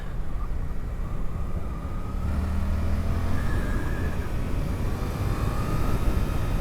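A Suzuki GSX-8R's 800cc parallel-twin engine drones steadily during a ride, its pitch rising and shifting as the bike accelerates, with a constant rush of wind over the engine note.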